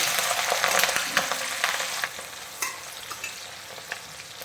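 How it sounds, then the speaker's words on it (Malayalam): Chopped green chillies fry hard in the oil left from browning onions for Onam injikkari, a steady bright sizzle with scattered stirring scrapes and clicks, loudest early then easing slightly. "അപ്പൊ പച്ചമുളക് നന്നായിട്ട് മൂപ്പിച്ചെടുക്കണം."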